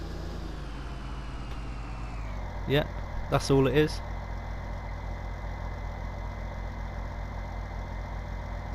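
A big tractor's engine drones steadily and low as it drives across a field near a stream, with a few knocks and rattles partway through. Someone speaks briefly over it.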